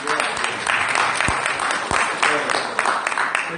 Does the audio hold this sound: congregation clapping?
yes